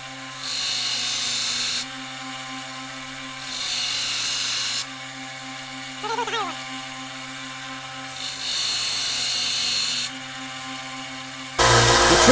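Grinder shaping a railroad spike into a tomahawk: steady loud grinding passes of a couple of seconds each, repeated with brief quieter gaps, then a sharper, harsher burst at the end, with no talking.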